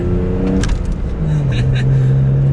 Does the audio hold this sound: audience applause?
no